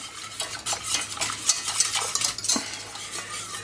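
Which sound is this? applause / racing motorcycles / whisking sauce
whisking sauce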